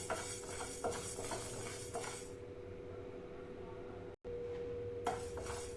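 Urad dal being stirred as it roasts in a pan, with soft scraping and light clinks of a utensil against metal, a steady background hum, and a brief quieter stretch in the middle.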